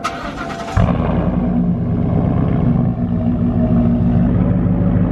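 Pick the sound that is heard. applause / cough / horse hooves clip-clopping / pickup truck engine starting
pickup truck engine starting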